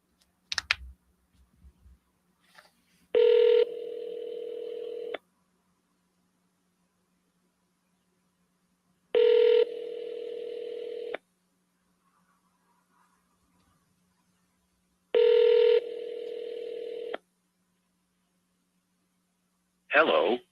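Phone ringback heard while calling a seller back: three evenly spaced ring bursts about six seconds apart, each roughly two seconds long, clear and moderately loud with near silence between them.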